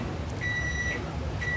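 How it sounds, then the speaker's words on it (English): A reading timer beeps in a home, two high electronic tones sounding briefly over a low room hum, moderately near. "That must be Eden's reading timer."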